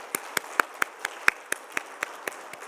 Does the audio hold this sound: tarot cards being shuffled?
no